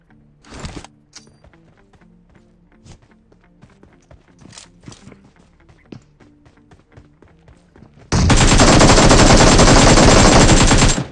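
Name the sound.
gunfire in the video game PUBG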